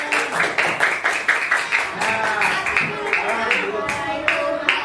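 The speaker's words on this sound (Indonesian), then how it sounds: "berikan tepuk tangan" An audience at an Islamic education teacher-training classroom session claps in bursts of quick, sharp hand claps, fairly close and lively, with a voice speaking briefly over the applause.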